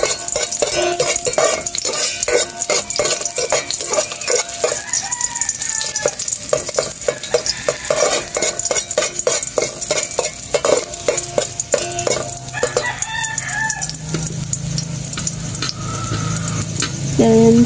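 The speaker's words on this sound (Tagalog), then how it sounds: "Ilalagay ko tayo ng bawang." Garlic sizzles loudly in a pan with rapid rhythmic scraping and clattering stirs, close up, while a rooster crows faintly in the background near the end.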